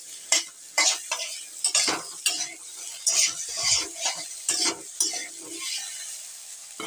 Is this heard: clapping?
no